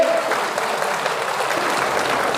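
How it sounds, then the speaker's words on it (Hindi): Audience applause at a student honouring ceremony in Bulandshahr, a dense, steady wash of many hands clapping at once, loud and sustained throughout without a break. "अरे ताली तो बजाओ इस बात के लिए"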